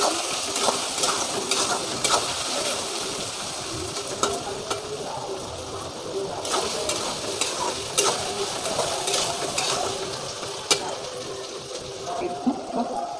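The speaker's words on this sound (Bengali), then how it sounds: "চটপট চটপট করে সব ভাজা আছে।" Chopped vegetables with salted potato frying in a pan over a full gas flame, a continuous sizzle with repeated scraping stirs and clinks throughout, close and fairly loud.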